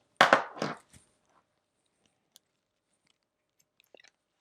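Scissors snipping along a marked line on a screen protector film for a Game Boy Color backlight screen mod, two close crisp cuts in quick succession followed by a few faint ticks and near silence.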